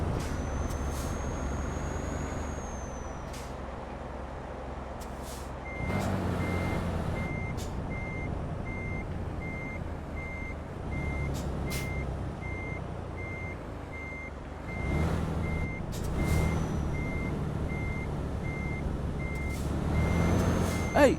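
Truck reversing beeps in Euro Truck Simulator 2, a steady repeating electronic beep over a low engine rumble, with air-brake hisses and engine surges rising at intervals.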